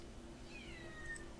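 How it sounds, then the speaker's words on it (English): A cat in another room gives a faint, drawn-out meow or two over a steady low background hum. "she got locked up for being bad and won't stop meowing so loudly."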